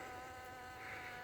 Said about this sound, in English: look at the bees doing the business, pollinating the fruit